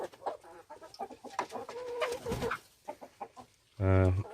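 Backyard chickens cluck and murmur in a series of close, soft calls, with one louder squawk near the end.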